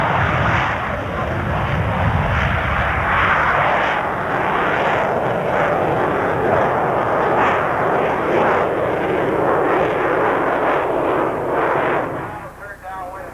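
An airplane roars past at the 1992 Bowling Green air show, a loud, sustained engine drone with crackling bursts that holds for most of the stretch before fading at the end, a commentator's voice talking over it.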